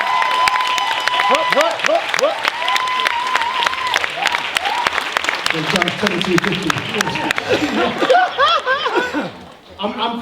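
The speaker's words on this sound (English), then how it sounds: "Thank you for giving a round of applause all the acts." Audience applause mixed with laughter and chuckling at a live comedy show, a broad crowd sound running steadily for about ten seconds under a host's talk.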